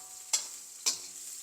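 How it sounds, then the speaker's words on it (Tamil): Bitter gourd slices fry in hot oil while being stirred, a quiet background sizzle broken by two distinct scraping stirs about half a second apart. "கொஞ்சம் ஒரு அரைவாசி பொரிஞ்சிட்டுது. இன்னும் ஒரு அரைவாசி வீதம் தான் இருக்குது இந்த பாவக்காய் பொரிய."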